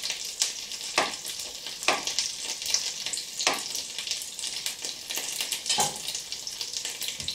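Fried eggs sizzle steadily in a hot pan, a loud continuous crackling fry with scattered pops and occasional scrapes, close by and with no voices.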